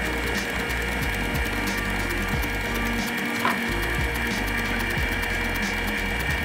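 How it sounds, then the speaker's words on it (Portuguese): An electric mixer whirs steadily while beating pineapple mousse toward a stiff, egg-white-like consistency, a continuous close mechanical drone with a rattling, gear-like texture and no talk. "quando a batedeira tá acionada, a gente quase que não tem áudio"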